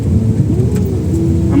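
A car engine rumbles steadily in second gear while descending a slope, a continuous low drone with a faint rising whine near the end and no talk.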